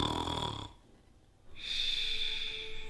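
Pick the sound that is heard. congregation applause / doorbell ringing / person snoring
person snoring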